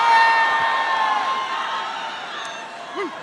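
An excited crowd at a Chicago campaign rally cheers and shouts loudly, with whoops rising above a dense roar of voices that gradually eases in volume.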